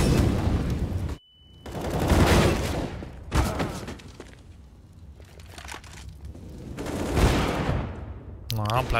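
Desert Eagle pistol shots in a competitive Counter-Strike match on the Overpass map, loud bursts of gunfire repeating across the stretch amid game noise, with a caster talking over it.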